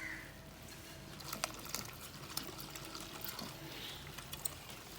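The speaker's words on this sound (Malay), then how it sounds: "Masukkan air kita yang 600 tadi untuk lapisan atas." Water is poured into a talam cendol mixture in a kitchen for the top layer, a quiet steady pour with small splashes and clinks, no talking.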